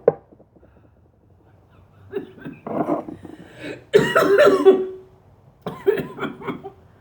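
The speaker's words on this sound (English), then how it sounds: "I knew that one was going to make me cough." Someone with a dry throat coughs several times close to the microphone, in short rough bursts separated by brief pauses.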